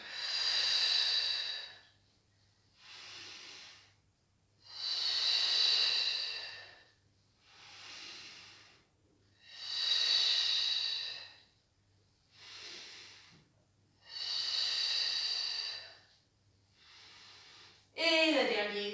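Deep, audible breaths in and out during a Pilates exercise, alternating long inhales and exhales in a slow, regular rhythm, close to the microphone and otherwise quiet.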